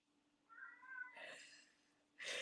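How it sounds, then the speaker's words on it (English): Pet cat meowing indoors after hunting socks, a couple of drawn-out close meows with a sharper cry at the end, fairly quiet, no talking. "He hunts these things, and then he will meow."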